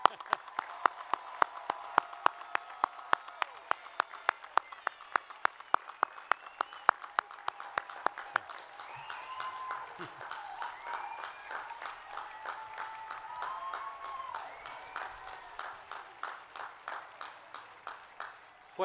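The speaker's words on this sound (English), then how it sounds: "I want to do one great loud applause for our newest group of Bradley alums." A crowd at a university commencement ceremony applauds steadily, with one nearby person clapping in loud, regular beats through the first half before the applause continues as a broad wash.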